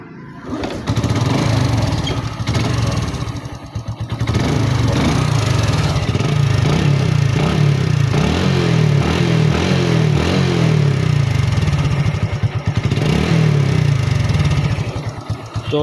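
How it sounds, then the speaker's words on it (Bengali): A Hero Glamour motorcycle with a weak battery starts up after a brief sputter and settles into a loud, steady, close-up engine run that continues throughout. "তো দেখেন বাইকটা কিন্তু স্টার্ট আসছে"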